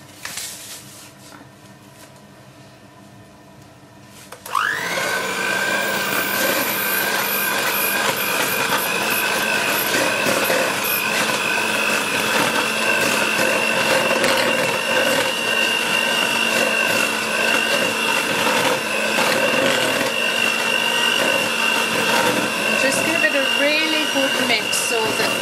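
An electric mixer starts up after a few quiet seconds of small kitchen noises, then whirs loudly and steadily at close range for about twenty seconds as ingredients are mixed.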